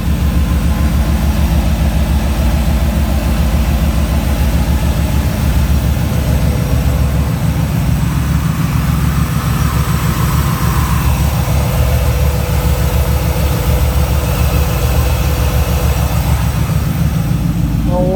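A 2003 Ford F-150 SVT Lightning pickup with its engine idling close by, a deep, steady, loud rumble with fine rapid pulsing that holds evenly throughout, with no talking over it.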